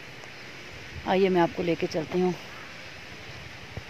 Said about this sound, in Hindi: तो आपको झरने पानी के झरनों की आवाज़ें आ रही होंगी।